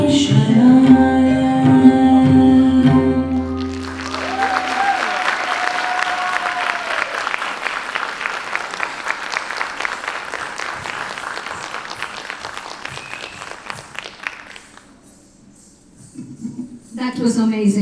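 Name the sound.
audience applause after dance performance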